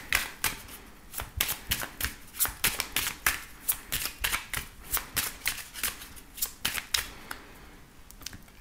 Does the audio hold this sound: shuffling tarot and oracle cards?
yes